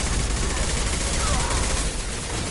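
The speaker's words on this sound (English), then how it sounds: "Firing a high-impact shot." Heavy, continuous weapon fire from the video game Mass Effect 2 around a high-impact shot, a dense loud blast of sound with no clear gaps across the whole stretch.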